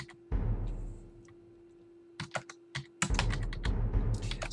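Computer keyboard keys clatter in short bursts of quick taps close by, with a pause of near quiet and a steady hum before the typing resumes more densely.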